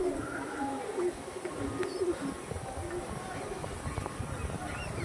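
Pigeons coo softly in low, repeated murmurs, with faint chirps and light rustling around them.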